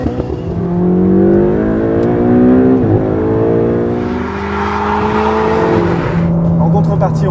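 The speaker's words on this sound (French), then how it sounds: "même au démarrage ou à bas régime, c'est un moteur qui reste sonore" A Ferrari 488 GTB V8 engine revs up in rising, rasping sweeps, climbing and easing off in several waves, loud and close, with speech over it.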